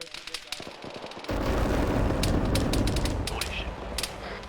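Heavy gunfire from a tank in an ArmA 3 combat game, loud sustained bursts and sharp repeated shots over a dense rumbling battlefield roar, with a voice talking over it.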